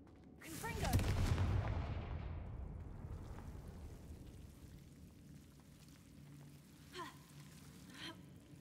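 A Confringo fire spell bursts in the video game Hogwarts Legacy, a loud sudden blast with a roaring rumble that trails off into fading crackle, followed by faint later effects.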